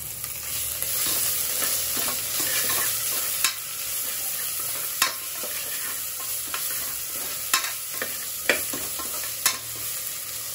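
A teaspoon of ginger garlic paste fries in a pan, making a soft steady sizzle, while a spoon stirs it with occasional light clinks against the metal, close but fairly quiet, with no talk.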